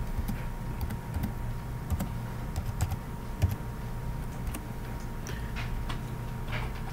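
Keys clatter on a computer keyboard as a password is typed, a string of close, crisp taps in uneven bursts over a quiet room hum.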